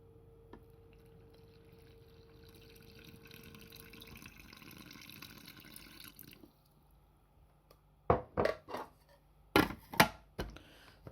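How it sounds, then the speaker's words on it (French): Water poured into bread dough ingredients in a mixer bowl, a soft trickle and splashes followed by a few louder knocks and clunks near the end, close and without talk. "J'active une première fois pour bien mélanger tous les ingrédients et je rajoute l'eau."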